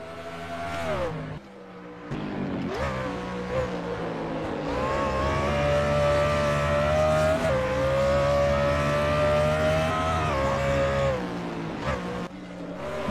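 Race cars, including the number 68 car, roar past on a racing circuit: loud, sustained engine howls rise and fall in pitch as they speed by, with a brief lull near the start and another near the end.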